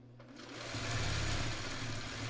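A sewing machine runs steadily while stitching a mitered corner or Y seam in a traditional spool quilt block, its motor a continuous close hum that starts up and holds for the whole stretch.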